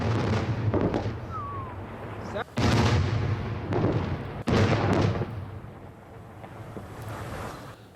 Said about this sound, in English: this video was released by Kurdish media, reportedly showing Turkish shells exploding near the airbase in northern Syria